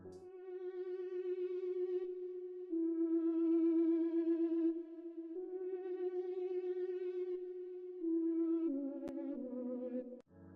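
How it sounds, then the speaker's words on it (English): A sustained synth melody from an analog preset, with rich harmonics and gentle vibrato, held long notes shifting pitch every few seconds, playing alone and steady. "I wanted to add just a little like synth line in the background"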